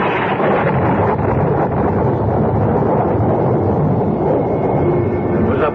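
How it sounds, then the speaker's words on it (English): A thunderclap sound effect in a radio drama bursts in as a loud, sustained, broadband rumble and roar that fills several seconds without letting up. "It was a belt of thunder like the crack of doom"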